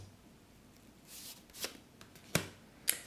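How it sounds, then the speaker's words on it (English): Tarot cards being shuffled and drawn, soft papery riffles followed by a few sharp snapping flicks near the microphone, quiet and without speech. "May we kindly draw the cards for my lovely Capricorn."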